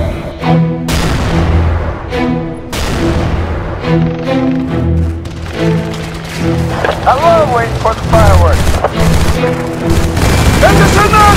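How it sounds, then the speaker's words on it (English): 81mm mortar rounds bursting in the Halo: Reach video game, a string of heavy booms and rumbling blasts layered under constant talking voices. "We got some 81 Mike Mike inbound."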